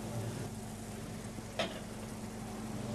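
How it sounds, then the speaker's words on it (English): Fish for an Italian fish soup cook in a pan with white Verdicchio wine, giving a steady, quiet sizzle and bubbling over a low hum, with one brief sharp clatter partway through; no talking. "And now she put all the fishes to cook."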